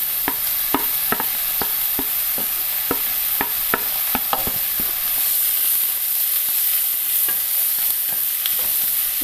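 Finely chopped onions sauté in hot oil for egg bonda, with a steady bright sizzle and a regular series of sharp spatula taps against the pan that fade out partway through.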